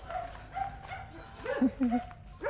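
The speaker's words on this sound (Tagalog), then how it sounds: "Nagwa-warning na sa amin yung alaga nilang aso kasi nakatali." A leashed, aggressive dog barks in warning at a countryside home in the Philippines, giving a few quick, gruff barks from a short distance, mixed with outdoor background noise.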